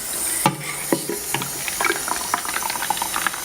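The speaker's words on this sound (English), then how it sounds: "this is the best way to fill buckets here" Water pours from a spun, vortexing container into a bucket, a gurgling, bubbling stream with irregular splashy glugs and knocks, steady and fairly close, with no talk.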